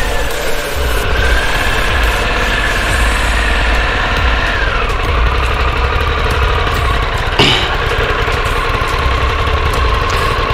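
A 2021 Harley-Davidson Pan America motorcycle idles close by with a steady, even engine hum, accompanied by broadband wind or road hiss and one brief knock near the end.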